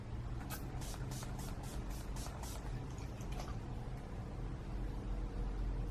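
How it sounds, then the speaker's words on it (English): Skindinavia makeup priming spray misted onto a face in several quick, close spritzes, a rapid series of short hissing bursts over a steady low background hum. "to start off, I'll be using my Skindinavia makeup priming spray"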